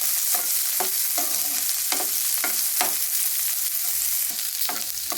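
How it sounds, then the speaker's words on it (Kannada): Onions with a few cashews frying in a pan while being stirred, a steady sizzle broken by regular scraping strokes of the spoon, close and alone without speech. "ಸ್ವಲ್ಪ ಈರುಳ್ಳಿ ಹಾಕ್ಕೊಳ್ತಾ ಇದ್ದೀನಿ. ಇದೆಲ್ಲ ನೀಟಾಗಿ ಫ್ರೈ ಮಾಡ್ಕೊಳ್ಳೋಣ."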